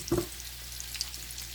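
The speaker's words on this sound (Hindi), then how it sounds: "तो ये जैतून के तेल में तड़का आज लग रहा है। इसमें मैं थोड़ा सा ज़ीरा साबुत ऐड करूँगी बस।" Whole cumin seeds hit hot olive oil for a dal tempering, a short burst of sizzle that settles into a faint, steady crackle.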